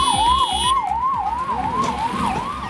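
Emergency sirens from ambulance and police vehicles arriving at Jamnagar airport after a bomb threat on a Moscow–Goa flight wail loudly and close, in a repeating rising-and-falling tone over low vehicle rumble.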